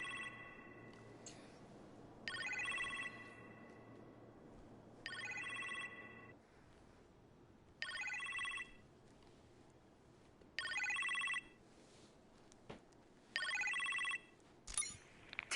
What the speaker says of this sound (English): You appear to have a phone call in the kitchen,